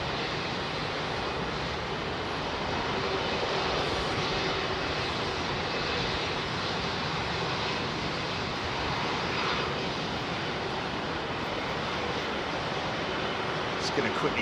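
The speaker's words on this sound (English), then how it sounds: "I think those XWBs like a little bit of power on departure, man" An Airbus A350 XWB jet airliner roars down runway 27R at London Heathrow on a full-power departure, a loud, steady, broadband engine rush sustained close by throughout, with a voice talking over it.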